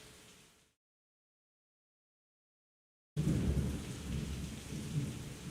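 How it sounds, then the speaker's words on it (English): Thunderstorm with rain, a short burst of rain fading into silence, then heavy rain and rolling thunder return loudly and continue to the end. "There's a storm a brewing."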